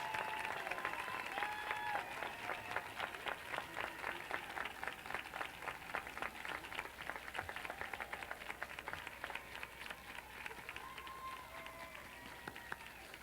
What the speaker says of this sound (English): We have another round of applause for all these wonderful, fantastic cast members.